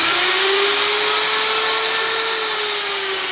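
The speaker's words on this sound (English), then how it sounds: "You do have a router." A Norfield 250M strike jamb router running at full speed, a loud, steady high-pitched motor whine with a sustained tonal hum, close and unbroken throughout.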